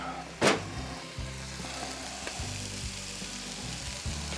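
Smash burgers sizzle on an Oklahoma Joe grill, a steady broadband hiss that continues without a break, with a sharp brief scrape or clank near the start and low rumbling underneath.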